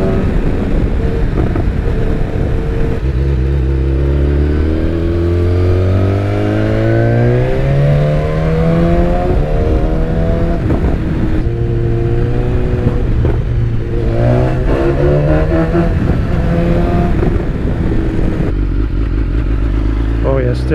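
A BMW S1000XR motorcycle with an Akrapovic exhaust revs hard and downshifts, its engine pitch climbing and dropping in repeated sweeps, loud and close throughout, with a rider's voice briefly heard over it.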